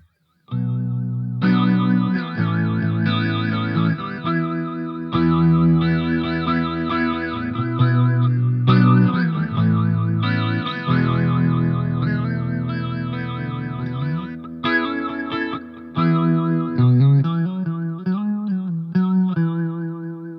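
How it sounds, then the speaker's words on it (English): Guitar played through a Beetronics Larva pedal set to a fast vibe mode, chords and riffs swirling with quick pulsing modulation, sustained and fairly loud throughout with brief gaps between phrases. "now we're going to do just the vibe"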